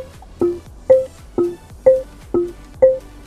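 A car's 'trendy' alarm tone sounds six clear electronic beeps at a steady half-second pace, alternating between two pitches. They are loud and close, with no talking.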